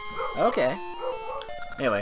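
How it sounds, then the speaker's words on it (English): A dog barks and yips indoors in quick, sharp bursts close to the microphone, mixed with a whimper, while a person talks alongside. "sorry if you guys hear barking"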